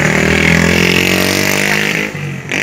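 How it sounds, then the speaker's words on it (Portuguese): A motorcycle passes close by in a small-town square in Itaboa, Ribeirão Branco, its engine loud and steady before the pitch drops and fades as it moves away. "Vai passar uma moto aqui agora, ó. A moto passando."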